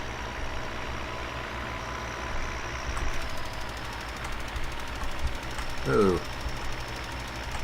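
A tractor engine pulling a sprayer in Farming Simulator 15 drones steadily at a low rumble, with a brief rattling knock near the end and a voice speaking softly over it.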